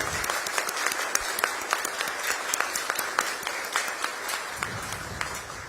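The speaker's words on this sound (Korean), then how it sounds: "여러분 뜨거운 박수로 우리 이재명 대통령님 네 분을 환영해 주시기 바랍니다" A crowd in a hall applauds to welcome the South Korean president during a state visit to India, with dense, sustained clapping at even volume throughout and faint voices beneath.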